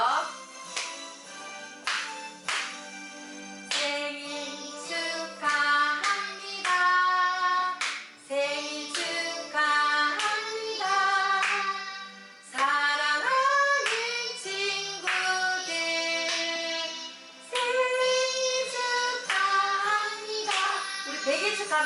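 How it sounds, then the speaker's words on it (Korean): Toddlers at a Sunday church worship service sing a celebration song with piano-like harmonic melody, while steady rhythmic hand clapping taps along through the song. "우리 친구들 다 함께 큰 소리로 박수 치면서 우리 친구들 축하 노래 불러주도록 해요"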